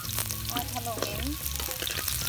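Garlic and onion frying in a pan while being stirred make a close, steady sizzle with quick scraping and clinking strokes, heard alone.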